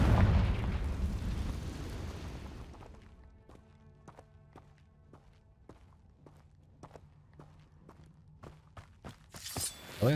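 A Confringo fire spell detonates in Hogwarts Legacy with a loud rumbling blast that fades, followed by a run of quieter, evenly spaced game thuds and clicks, with another sharp burst near the end.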